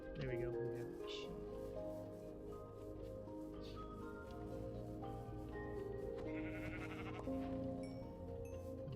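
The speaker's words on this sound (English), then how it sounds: "There we go, we have a sheep." Sheep in the Minecraft video game bleat several times, near and clear, over a continuous bed of in-game background sound.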